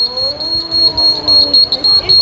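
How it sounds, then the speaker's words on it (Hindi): A student's homemade earthquake alarm, triggered when a swinging wire touches a metal loop, gives a steady, loud, high-pitched electronic buzzing tone that pulses slightly over a couple of seconds in a school classroom. "जब ये लूप से टच होएगी मैम तो अलार्म बजाएगी"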